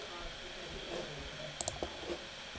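A few sharp mouse clicks land close together near the end while the Scratch desktop setup is being finished, over a quiet room hum.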